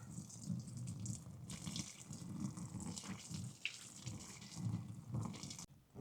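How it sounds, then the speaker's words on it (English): Water poured from above onto a small fire set on a fireproof document box, a steady splashing, running stream close by that carries on for several seconds with no talk over it. "And smother it with water."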